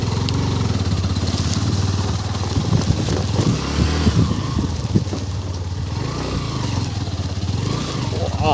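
A motorcycle ridden off-road as an adventure bike across a sandy stretch near the Barkana viewpoint drones loudly and steadily close by, with rough rattles and slight swells in revs as it pushes through the sand.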